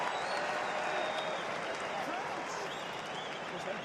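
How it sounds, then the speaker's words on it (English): A big rugby crowd at Scottish Gas Murrayfield, Scotland against USA, gives warm, steady applause that fills the stadium as a dense, even wash. It holds at an even level throughout, with a commentator talking over it. "A warm ripple of applause for one of Murrayfield's fondest sons."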